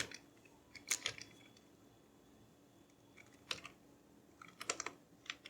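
Keys on a computer keyboard are tapped while entering month names into an Excel calendar, a few faint, brief clusters of clicks separated by quiet pauses.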